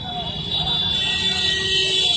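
A procession of motorcycles rides along one side of a highway during an election campaign rally, making a steady, close engine rumble with a sustained high-pitched tone, like a horn or buzzer, running throughout, and faint voices mixed in.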